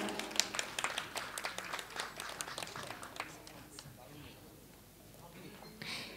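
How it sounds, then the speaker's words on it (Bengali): An audience at a poetry club award ceremony on a stage claps in a burst of applause that fades out, with a voice speaking over it near the end. "হাততালি"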